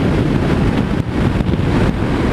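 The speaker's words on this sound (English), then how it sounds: "The wind is just obnoxious because there's no fairing" Heavy wind buffets the microphone on a Zero S electric motorcycle without a fairing at about 50 mph, a loud, constant low roar with a brief dip partway through and no talking.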